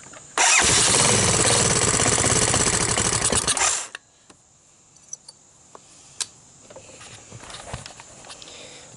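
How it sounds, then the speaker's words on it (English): A Honda TRX200SX ATV engine catches and runs loudly for about three and a half seconds, then cuts out abruptly, followed by scattered faint clicks and knocks. "Turn it on, choke, throttle."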